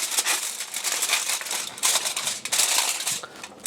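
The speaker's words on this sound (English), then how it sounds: "we're going to take our aluminum foil and cover it to make sure it stays nice and hot" Aluminum foil crinkles and rustles in bursts as it is pressed over steaks in a pan, close and fairly loud, with irregular crackling bursts and no talking.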